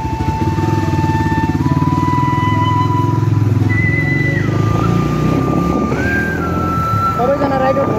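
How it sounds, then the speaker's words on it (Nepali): A group ride on motorbikes: a loud, close engine drones steadily under wind buffeting, its pitch climbing in steps as the bike shifts gears and pulls away, with a voice briefly heard. "अब बाइक स्टार्ट भयो र हामी हिँड्न आँटेको"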